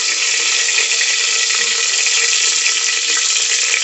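Green chilies hit hot oil in a pan and set off a loud, steady sizzle that holds evenly and unbroken from start to finish.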